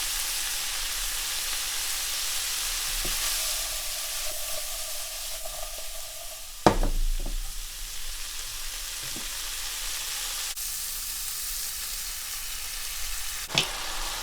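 Shrimp and peppers sizzle steadily in a hot pan with sauce, a constant close frying hiss with occasional sharper stirring scrapes and clatters.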